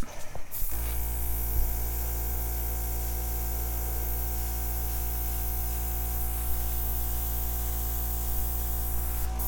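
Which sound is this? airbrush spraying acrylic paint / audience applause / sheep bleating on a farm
airbrush spraying acrylic paint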